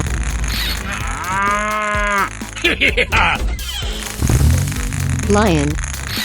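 A cartoon cow moos loudly once in a 3D animal sliding game, with a long sustained low call followed by music and game sound effects.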